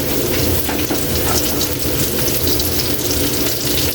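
Garlic, onion and carrots fry in a pan for a dorado fish escabeche, giving a dense, loud, steady crackling sizzle close by, with no talking.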